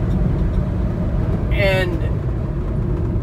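A Daihatsu Hijet climbs a hill in fifth gear, its engine giving a steady low drone with road rumble inside the cab, while a voice speaks briefly over it.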